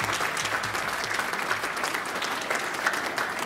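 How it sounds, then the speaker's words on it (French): An audience claps for a godmother honoured at an event, a brief burst of scattered hand claps that holds steady throughout, moderately close and unaccompanied by speech. "Qu'on applaudisse."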